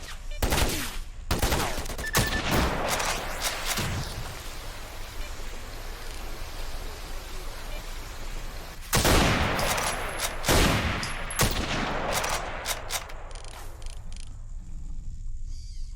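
Sharp gunshots in STALKER, a few scattered cracks early on, then a quiet stretch, then a renewed cluster of shots fired in quick succession, loud and close, with no talk.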